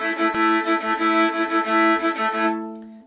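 Violin playing a simple bluegrass chord accompaniment with chord stacks, bowed in a steady repeating rhythm, close and loud, the chords ringing out and fading at the end.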